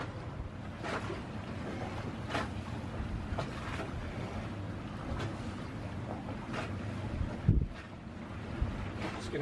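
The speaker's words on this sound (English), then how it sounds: "The wind is picking up again." Wind gusts across a sailboat anchored in the South Pacific, a steady blustery rush with buffeting on the microphone, faint water movement and an occasional knock, with no talk.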